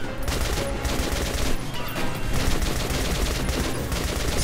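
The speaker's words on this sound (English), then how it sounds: "Just keep shooting, man. It's like the whole point of this thing right now." Rapid, dense gunfire from a favorite weapon in the PC shooter Metro Last Light, a continuous rattling barrage of shots over about four seconds, loud and unbroken, with no talk over it.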